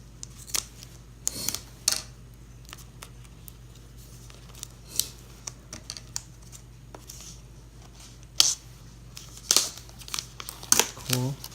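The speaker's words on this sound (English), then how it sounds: "This is a tight plastic wrap here, the seal around the box." Tight plastic shrink-wrap seal crinkling and tearing as it is peeled off the box of a Zhiyun Smooth 4 gimbal, close and intermittent, with sharp bursts of rustle near the end.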